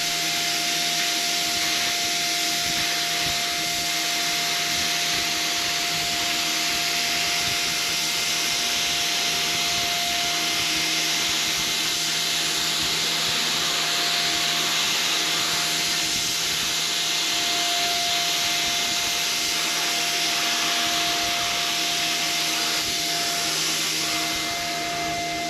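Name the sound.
LIFOVE electric paint sprayer spraying a board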